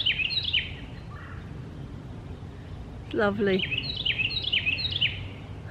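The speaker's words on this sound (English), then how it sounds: "These birds are so loud today." Birds chirp and sing in bright repeated phrases at a moderate distance, with a brief descending call in the middle and a short spoken word over the top.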